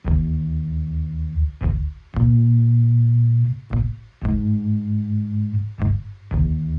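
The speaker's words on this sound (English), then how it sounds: "You really get like a fat bass sound." A fat, buzzy palm-muted synth bass plays short clipped notes in a funky stop-start rhythm, loud and up close with no voices.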